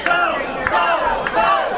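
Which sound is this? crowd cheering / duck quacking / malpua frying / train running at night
crowd cheering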